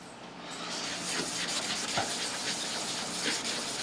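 WD-40 aerosol sprays onto a rag for a blow-off valve cleanup, a continuous hiss lasting a few seconds, fairly quiet and close, with no talk over it.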